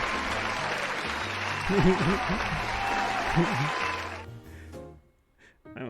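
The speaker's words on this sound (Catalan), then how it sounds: "Aquest aplaudiment va per en Will." A studio audience on a Catalan radio show applauds steadily for Will while a voice talks over the clapping, which then stops abruptly and leaves a short quiet stretch.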